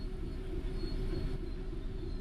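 A Class 66 diesel locomotive in the Train Sim World 4 game runs steadily, with a continuous low engine drone and rail rumble throughout and no voices.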